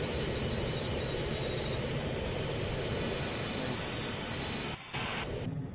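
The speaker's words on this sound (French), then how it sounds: "je vous laisse profiter de ce décollage" A Phenom 100 business jet on its takeoff run at sunset, heard from inside as a loud, steady roar of engine noise with a constant high whine and a brief dip near the end.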